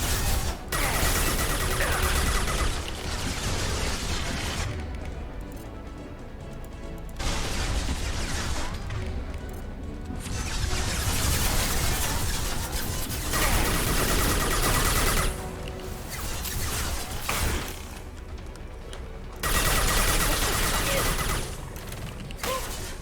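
Turret gunfire in the sci-fi shooter Mass Effect 2, long loud sustained volleys of rapid shots in several bursts separated by short quieter gaps.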